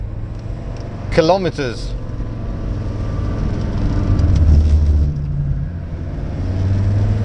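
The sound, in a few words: Audi 100 C3 diesel non-turbo Avant accelerating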